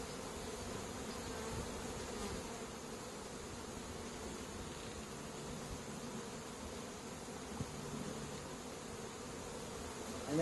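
A steady, dense hum of honey bees swarming around an open hive during a summer hive inspection, continuous and fairly close with no voices.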